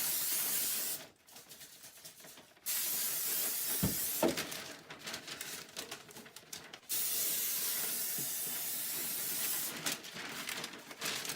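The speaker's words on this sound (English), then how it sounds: "I'm gonna spray the one side of the parchment paper." Cooking oil sprayed from a can onto one side of parchment paper while making a Greek spinach, feta and herb pie, heard as several close, steady hissing bursts separated by short pauses.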